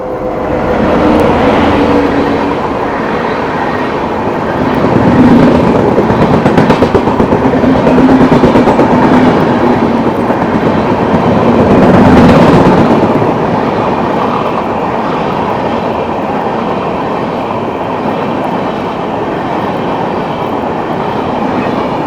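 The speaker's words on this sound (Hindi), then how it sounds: "अमृत भारत को हमसफ़र एक्सप्रेस ने ओवरटेक किया।" A Humsafar Express passenger train overtakes an Amrit Bharat train on Indian railway tracks, a loud, continuous rumble and rush of passing coaches that swells twice, strongest around the middle, with no talk.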